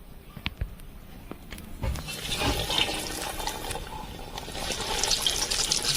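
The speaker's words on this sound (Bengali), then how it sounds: "এটাকে গরম তেলের মধ্যে ছেড়ে দেবো" Double-coated chicken drumsticks frying in hot oil for a village-style chicken fry, a steady broadband sizzle that swells after a couple of seconds and stays loud and continuous throughout, with no talk.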